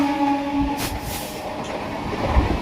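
The Goghat local train on the Howrah line pulls away from Konnagar station, a steady onboard rumble of wheels and carriage rattle that carries on continuously at close range.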